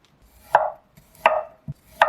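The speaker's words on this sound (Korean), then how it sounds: "마늘은 슬라이스하고 생강 약간은 채 썰어 주었어요." Garlic being sliced and ginger julienned with a knife on a cutting board: three crisp, evenly spaced knocks with a softer tap between the last two, close and clear in a quiet room.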